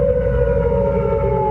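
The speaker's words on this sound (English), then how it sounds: "Tornado sirens sounding in Minneapolis this afternoon." Tornado sirens in Minneapolis drone loudly on a sustained tone, holding their pitch throughout with a faint rumble beneath.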